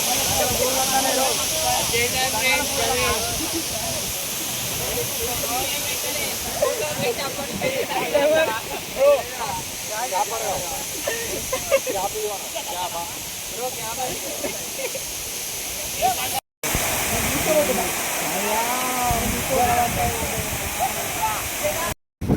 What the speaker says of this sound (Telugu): గుండాల వాటర్ ఫాల్స్ మీదకి వెళ్ళి ఇయే నీళ్ళు కిందికి పడతాయి